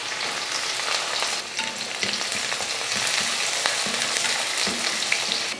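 About 100 grams of small onions frying in oil with cardamom, clove, cinnamon stick and curry leaves, a close, steady sizzle broken by light stirring scrapes, without talk.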